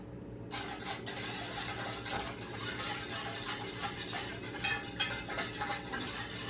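Steady scraping and stirring of pizza dough ingredients, salt and sugar, in a bowl, a utensil knocking against the sides with a few louder clinks near the end.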